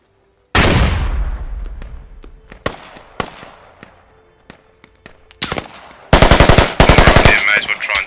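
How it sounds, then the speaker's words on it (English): Gunfire in the Squad video game: a loud close burst of shots opens, then scattered single cracks follow, ending in rapid automatic bursts, with little or no talk. "Under fire. I don't know where the fuck we're getting shot from."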